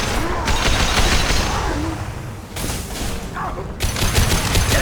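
Dense gunfire in the sci-fi shooter Mass Effect 2 during a battle, with loud overlapping bursts and booms that crowd the scene and only briefly ease before the firing picks up again.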